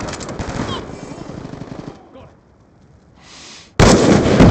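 Automatic gunfire from a Call of Duty Black Ops II multiplayer match, loud rapid bursts for about two seconds, a short lull with faint sounds, then a sudden loud burst of noise near the end.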